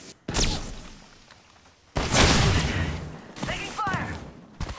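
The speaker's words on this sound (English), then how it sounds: "I'm spotted, taking fire." Heavy bursts of gunfire and impacts in an Apex Legends match arrive in a few loud, sharp volleys separated by brief lulls, with a voice speaking amid the shooting.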